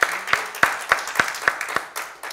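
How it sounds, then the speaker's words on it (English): A church congregation at Abundant Life Community Church claps in unison during worship, making about eight sharp, evenly spaced claps in a steady rhythm at moderate loudness, with a faint background hum. "Give the Lord a hand clap"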